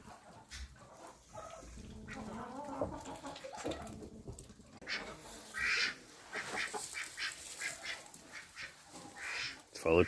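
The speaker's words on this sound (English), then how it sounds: "Let's follow Tweedledum and all the ducks back out of their stall." Ducks quack in a farmyard duck stall, loud and overlapping in irregular bursts, with other poultry calls mixed in; the calling grows busier and denser toward the end.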